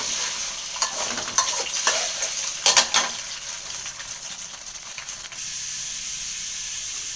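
Eggs being stir-fried in a pan sizzle under clattering utensil scrapes and knocks, a few sharp strikes early on, then the frying hiss carries on alone, close and moderately loud.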